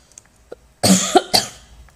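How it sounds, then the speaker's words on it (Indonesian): A single harsh cough bursts out close to the mic, followed by a couple of smaller coughs, with no talking. "Batuk."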